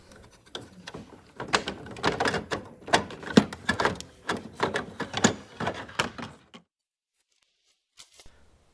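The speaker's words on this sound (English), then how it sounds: "and then you can easily take out the printhead" An HP OfficeJet printhead is unlatched and lifted out of the printer, giving a run of sharp plastic clicks, clacks and rattles close up, then near silence with a couple of faint taps at the end.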